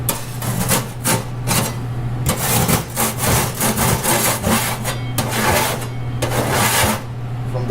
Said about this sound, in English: You have to scrape a little bit, gently scrape any baked food residue.